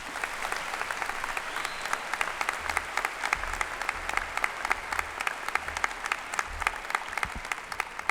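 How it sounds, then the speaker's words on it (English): An audience applauds at a 2015 high school commencement ceremony, with steady, dense clapping that holds at an even level for the whole stretch, no voices standing out. "One more round of applause for our speakers."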